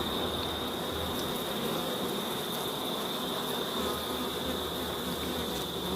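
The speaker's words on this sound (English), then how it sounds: "this little swarm here is doing what they should be doing" A small honeybee swarm at a beekeeping site in Jamaica makes a dense, continuous buzzing drone close to the listener, steady in loudness throughout, with no talk.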